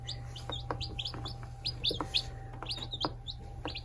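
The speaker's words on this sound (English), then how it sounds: "Well, I have never had chicks before, but we got chickies." Baby chicks chirp nearby in quick, high, overlapping peeps, a busy scattered chatter over a low steady background hum.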